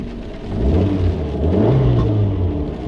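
An Abarth 595 with a 1.4 turbo engine pulls away with a loud, close rumbling exhaust that swells and climbs steadily in pitch as it revs, heard from inside the car.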